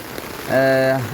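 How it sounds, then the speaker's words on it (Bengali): Heavy rain makes a steady wash of hiss throughout a brief moment, with a short voiced sound rising over it partway through. "এই যে দেখুন দারুণ বৃষ্টি হচ্ছে"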